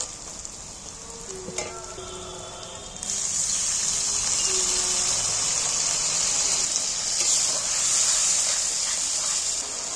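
Water poured into a pan of frying chicken skin masala: a brief splash, then a loud, steady sizzle and hiss that swells and holds close up, without any talk.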